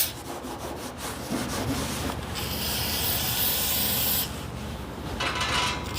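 Grease being wiped off a 1968 Dodge Charger part with O'Reilly brake cleaner, close scrubbing and rubbing strokes with a bright hissy spray-like wash, steady and fairly loud with no talk.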